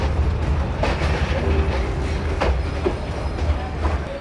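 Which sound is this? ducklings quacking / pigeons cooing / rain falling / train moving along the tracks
train moving along the tracks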